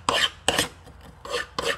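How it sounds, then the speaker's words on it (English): A file rasping across a freshly forged, hardened steel knife blade still hot and heavily scaled, four rough strokes in a steady back-and-forth rhythm, close and fairly loud with short gaps between passes. "So I'm going to take a file, and you can hear the sound"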